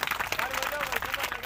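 An audience claps at a devotional satsang gathering, in a brief burst of dense, steady applause with voices mixed in.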